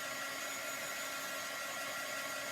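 A hair dryer blows steadily on wet chalk paste, a close, even broadband whoosh that holds without a break from start to end.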